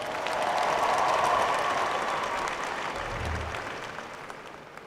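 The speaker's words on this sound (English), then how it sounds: "And let's give President Biden another round of applause as well." A large commencement audience at Howard University applauds President Biden, broad continuous clapping swelling then slowly tapering off over several seconds.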